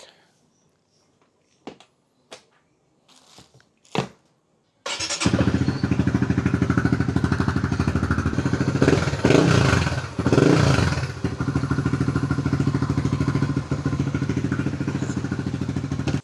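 Honda Winner X motorcycle engine with a freshly changed spark plug: a few sparse clicks and taps, then the engine starts and runs loud and steady close by, with a brief rev swell partway through.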